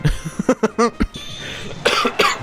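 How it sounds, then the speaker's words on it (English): A burst of harsh, close coughing, several hacking coughs in a row, followed by a breathy throat clear. "The cough caught me off guard there."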